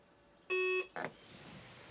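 A Tesla Model 3 or Model Y sounds a single long, steady electronic beep of about a third of a second as the boot opening height is set, followed by a brief mechanical clunk from the tailgate.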